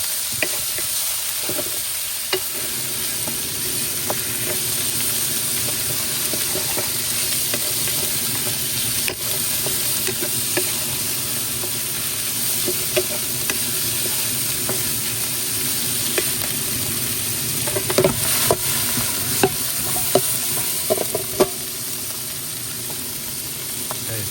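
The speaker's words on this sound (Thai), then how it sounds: "เพราะว่าเราจะผัดไม่นานนะครับ เดื๋สเต็กนะครับถ้าผัดนานมันจะแข็ง" Steak stir-fries with holy basil in a pan, a continuous hiss of frying with scattered scrapes and clinks of the spatula and a few louder stirs near the end, no talk.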